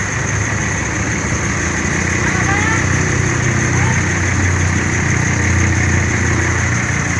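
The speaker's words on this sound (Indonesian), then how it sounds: "Ini lagi dicek mesinnya bagian belakang teman-teman." An engine runs steadily while its rear end is checked during an inspection in Palembang, giving a continuous, even idle rumble throughout.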